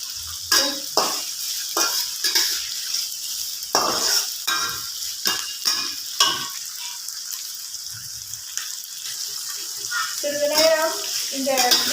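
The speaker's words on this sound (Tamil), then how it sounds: "இதெல்லாம் போட்டு ஸ்லோவாக மெதுவாக கிளறணும்" Onions and other ingredients for soya chunk curry are stirred slowly in a pan, giving a soft sizzle with repeated scraping strokes, and someone talks over parts of it.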